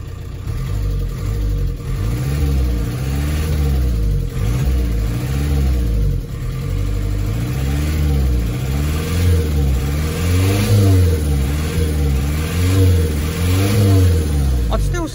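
A VW PD130 diesel engine swapped into a camper revs up and down repeatedly, rising and falling in pitch over a steady rumbling idle, with some hesitation, loud and close.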